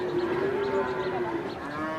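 Cattle at the Hazratpur livestock market low in a long, steady moo that carries through the full two seconds, loud and close, with no talk over it.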